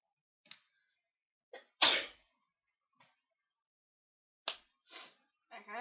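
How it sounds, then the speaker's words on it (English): A person sneezes repeatedly at close range, with one loud, forceful sneeze among several smaller sneezes and breathy bursts separated by silence. "I can't stop sneezing."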